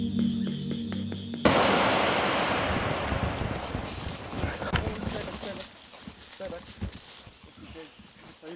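Hooves of wild buffalo trample fragile scrubland in Australia's Arnhem Land, a rough, dense clatter of steps that starts abruptly after a brief tonal opening and continues steadily to the end.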